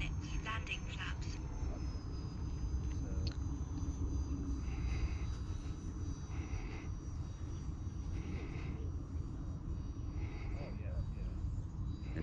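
Steady whine and rumble of an E-Flite A-10 Thunderbolt II RC jet with 64mm electric ducted fans flying at a model airfield, faint and continuous, with brief electronic beeps over the top.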